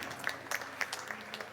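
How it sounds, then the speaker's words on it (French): Applause from the audience at a French-language interactive music show during an annual congress, faint scattered hand claps with a few sharper hits, fairly distant and brief. "Bonne main d'applaudissement pour notre animatrice"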